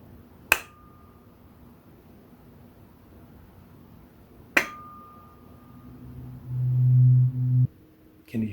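Tuning forks are struck twice, several seconds apart. Each strike gives a sharp tap and a clear, fading ring. A low, loud steady hum follows near the end.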